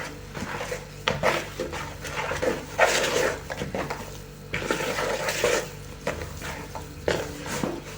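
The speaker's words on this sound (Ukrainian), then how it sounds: "Спочатку місимо ложкою а потім рука." Kitchen clatter of a spoon working through thick cottage-cheese dough in a bowl, with repeated scraping and knocking strokes at an uneven pace.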